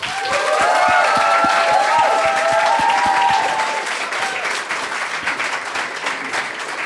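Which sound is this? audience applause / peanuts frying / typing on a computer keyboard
audience applause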